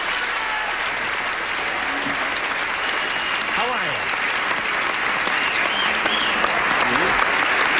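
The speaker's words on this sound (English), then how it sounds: "we give a brief, polite round, but heartfelt round of applause to the two new kids on the block" A television game show studio audience gives a sustained round of applause welcoming two new panelists, steady dense clapping throughout while a host and guests talk over it.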